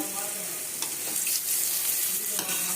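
Onions, green chillies and curry leaves fry in hot oil with a bright, steady sizzle, broken by a few soft stirring scrapes.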